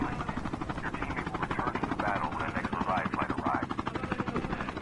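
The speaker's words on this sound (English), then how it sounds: "Chopper guys!" Helicopter rotor chops steadily and loudly in a video game, a fast rhythmic thumping throughout with people talking over it.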